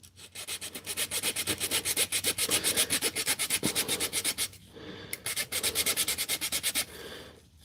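Hand sanding with sandpaper: fast, rhythmic back-and-forth rasping strokes, close and loud, with a short pause before the strokes resume.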